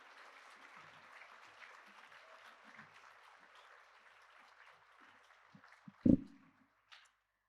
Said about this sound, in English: Please give a round of applause for our Year 9 Academic Excellence Awards